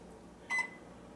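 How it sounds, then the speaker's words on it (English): A single short electronic beep sounds from a GE over-the-range microwave oven as its controls are pressed, clear and close against a quiet room hum. "just throw this in the microwave oven and it heats up"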